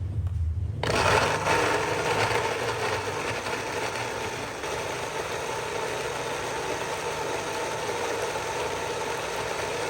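A blender grinds a spice paste for chicken sauce with a loud, steady, dense whir that starts abruptly and runs without a break.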